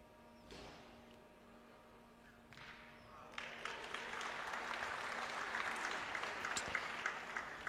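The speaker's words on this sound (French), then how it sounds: "Les applaudissements sont pour Christian Lagarde, qui officie sur le jeu télévisé." Spectators applaud at a pétanque triplette semi-final of the Coupe de France, Bron against Gourdon, on a televised broadcast. Light scattered claps open the clip, then the applause swells from a few seconds in and stays steady and moderately close until the end.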